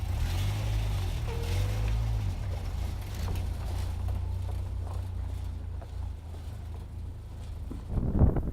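A four-wheel-drive vehicle driving out of Kiowa Grassland National Forest, giving a steady low engine and road rumble with wind buffeting throughout and a louder bump near the end.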